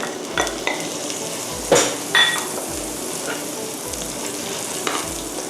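Unsalted butter sizzles and melts in a hot pan while Thai curry-powder chicken fried rice is being made, with a steady crackle and occasional louder spits and soft utensil scrapes, no talking.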